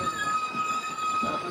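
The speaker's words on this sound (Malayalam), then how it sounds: "ട്രെയിൻ ഇപ്പോൾ കസാറ റെയിൽവേ സ്റ്റേഷനിലേക്ക് എത്തുകയാണ്." The Jan Shatabdi Express rolls toward Kasara station with a steady, loud rumble of wheels on rails and a thin metallic squeal running through, with no voices.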